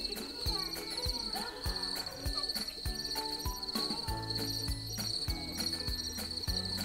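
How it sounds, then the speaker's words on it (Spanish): Cricket chirping as it rubs its wings, a high steady trill running throughout at moderate level over a soft musical backing in a children's bedtime story set in a forest, with no talking. "El grillo se frotó las alas y esta vez se oyó"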